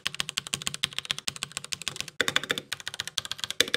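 Mechanical keyboard with red switches typed on quickly: a dense, close stream of crisp clicks and clacks in a steady rhythm, with a brief burst of faster keystrokes partway through.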